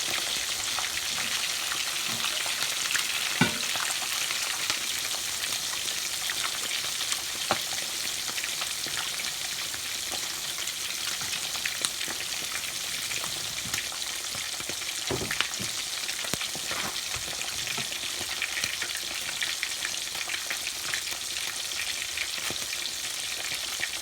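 Salt fish sizzling in hot oil in a pan, a steady crackling fry with occasional sharper pops and spits, fairly faint and uninterrupted with no talking.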